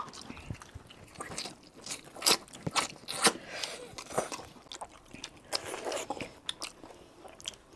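Close, loud crunching and chewing of spicy, numbing braised duck necks, with repeated bites and gnawing in an uneven rhythm and no talk.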